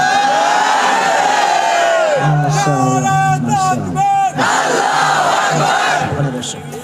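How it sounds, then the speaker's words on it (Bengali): A large crowd at a rally in Pabna, Bangladesh roars a takbir chant in unison, loud and sustained with voices rising and falling in long shouted waves for several seconds. "সবাই তাকবীর দেন নারায় তাকবীর"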